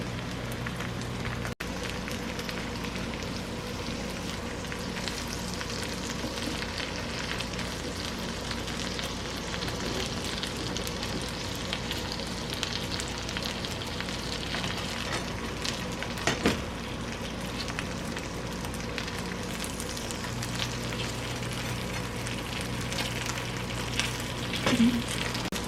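Blintzes frying in a pan for Shavuot, a steady close bubbling sizzle with soft crackles running unbroken throughout, no voices.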